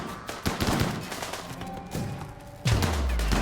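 Gunfire in a RimWorld battle, a dense rattle of rapid shots and thuds close up and loud, with a heavier burst near the end.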